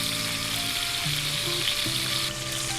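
Food frying in a pan over medium heat, a steady, close sizzle that runs without a break, with faint tonal hum from the kitchen beneath it.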